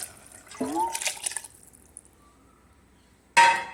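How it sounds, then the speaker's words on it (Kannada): Water is poured from a jar into a cooking pot for a pea and fenugreek pulao, splashing in two short bursts separated by a quiet pause. "1 ಅಕ್ಕಿಗೆ 2 ನೀರು ಅಂತ ಹಾಕ್ಕೊಂಡಿದ್ದೀನಿ, ಅದನ್ನು ಹಾಕ್ತಾಯಿದ್ದೀನಿ"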